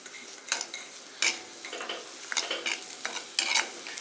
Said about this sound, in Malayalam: ഇതിൻ്റെ അകത്ത് ഇട്ടൊന്ന് വഴട്ടാനായിട്ട് നമ്മളൊരു അരമുറി സവോള എടുത്തിട്ടുണ്ട്